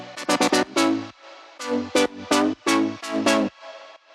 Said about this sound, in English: So this synth is 2 saw waves.